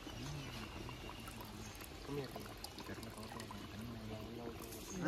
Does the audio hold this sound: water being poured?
yes